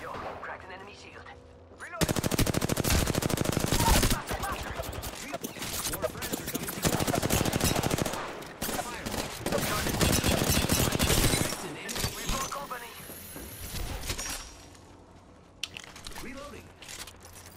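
Rapid automatic gunfire in the video game Apex Legends, loud sustained bursts of shots with brief pauses between volleys, close and dense, with game effects layered underneath.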